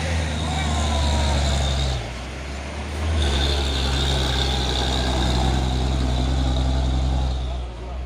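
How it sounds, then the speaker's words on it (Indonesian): Hino tanker trucks loaded with crude palm oil roll in, a loud, close, continuous diesel engine drone with deep low rumble that dips briefly then returns. A voice talks over the engines. "Masuk lagi ya pasukan truk tangki CPO ini ya"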